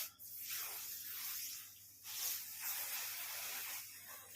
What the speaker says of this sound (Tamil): அடுத்து ஃபைனல் டச்சப்பா ஸ்ப்ரே.